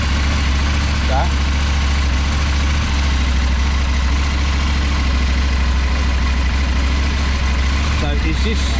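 A CFMOTO 800MT Sport adventure motorcycle with a KTM 790 engine idles steadily close by, a continuous low rumble throughout with a few faint voices at the edges.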